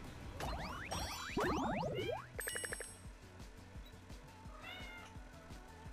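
A pet cat meows repeatedly at close range, several rising and falling calls bunched in the first two seconds over a steady rhythmic game-music background, followed by quieter chirps and a faint later meow.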